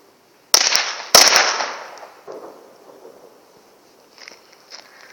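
Two sharp, loud bangs from a Ninja firecracker by Dio Komerc go off about half a second apart, each followed by a fading crackle and echo.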